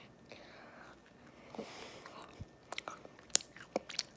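Chocolate macaron with slightly hardened shells being eaten up close: soft, crisp bites and moist chewing, quiet and intermittent, with a few sharper crunchy clicks near the end and no talking.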